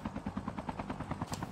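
A helicopter in the mobile shooter game Call of Duty Mobile thumps with rapid, even rotor pulses, faint and steady for a brief moment and ending in a sharper burst.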